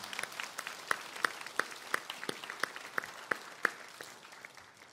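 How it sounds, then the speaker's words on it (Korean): Sparse, scattered clapping from a church congregation at a Sunday worship service over the Chuseok holiday, individual hand claps distinct and fairly near, coming in an uneven rhythm without voices. "우리 하나님께 감사와 영광의 박수 한번 올려드리시면 좋겠습니다"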